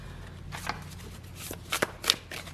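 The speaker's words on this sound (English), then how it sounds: "We're going to go ahead and shuffle." A tarot deck is shuffled by hand up close: a soft, continuous papery riffling with a few sharper card snaps near the end.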